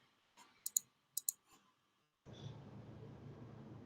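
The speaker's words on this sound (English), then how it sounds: "you can switch off the mic from Pradeep's keyboard" Computer keyboard clicks picked up by an open microphone during an online meeting: a few faint keystrokes and sharp clicks in near silence, then a sudden steady hiss of background noise.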